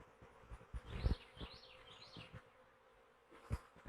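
Honeybees buzz faintly around hive frames being pulled and brushed during a homestead honey harvest. The drone rises and falls in soft waves, with a few louder close passes and light handling knocks.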